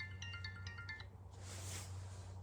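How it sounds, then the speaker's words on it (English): A phone rings nearby in a workshop during a small engine rebuild, giving a few bright, repeated electronic tone bursts over a steady low hum, followed by a rustling noise. "Phone's ringing."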